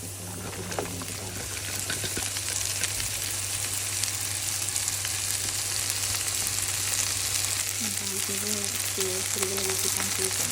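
Okra frying with onion in a pan, a steady dense sizzle running the whole time with a constant low hum underneath and brief tonal clinks near the start and end; no talking.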